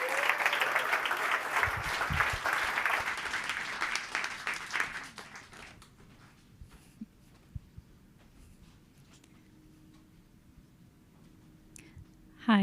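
Audience applause at a climate action summit in London fills the first five seconds, then fades out, leaving a quiet hall with faint clicks and shuffling.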